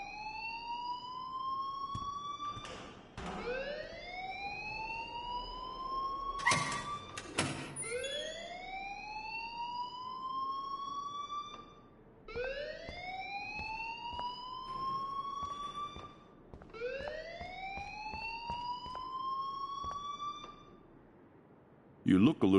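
An electronic alarm at a school in the Life is Strange video game repeats a rising, siren-like whoop about every three seconds, steady and clear, with brief thuds and voices between cycles.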